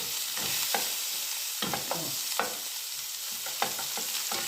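Onions sautéing in a pan give a bright, steady sizzle, broken by repeated scrapes and taps as they are stirred at an uneven pace.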